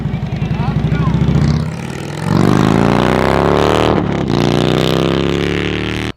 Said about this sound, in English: revving it out all the way in first, and then shifting into second, and it's bogging quite a bit